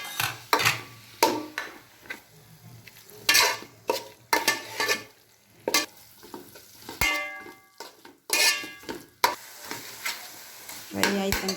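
Mushroom and tomato mixture frying in a pan, stirred with a utensil in repeated scraping bursts over a soft sizzle, some sharp clinks against the pan, close and uneven in rhythm.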